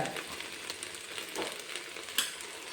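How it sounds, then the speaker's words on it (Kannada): Okra sizzling as it fries in a pan with tomato and dried chillies, a soft steady crackle and hiss with a few small pops, fairly quiet and close, with no talking. "ಬೆಂಡೆಕಾಯಿ ಹುರಿಯಕ್ಕೆ ಇಟ್ಕೊಂಡಿದ್ದೀನಿ"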